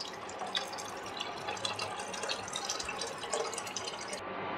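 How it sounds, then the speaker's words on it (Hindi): Water poured steadily into a pot of vegetable soup made with vermicelli, one litre added in a continuous close splashing, gurgling stream that runs for several seconds without talk. "तो पानी डाल देते हैं हम इसमें, एक लीटर पानी।"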